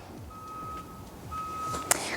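A reversing vehicle's warning beeper sounds two long steady tones, faint and distant, over low room noise and soft background murmur, ending in a sharp click.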